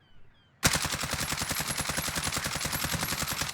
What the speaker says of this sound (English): Now I'm going to ADS and shoot again at the wall.